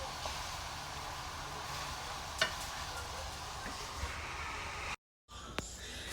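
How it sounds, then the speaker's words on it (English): A mixture of ghee, salt and black pepper is stirred in a pan, giving a soft continuous scraping and faint sizzle at low level with a few light clicks, and a brief drop to silence near the end. "and she stirs it well"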